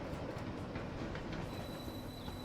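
A rolling electric train in the railway-building game Transport Fever 2 gives a steady rumbling clatter of wheels on rails, continuous and fairly quiet throughout, with a thin high whine entering partway through.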